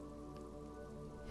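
Steady rain in the video game Disco Elysium makes an even, unbroken hiss of drops on surfaces, fairly faint and alone.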